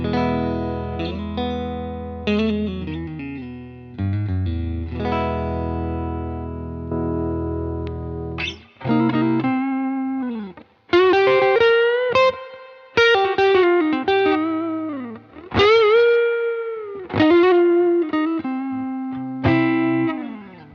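An electric guitar through an LA-2A compressor plays a phrase of sustained notes and chords, smooth and even in level, with a polished, compressed tone and no talking.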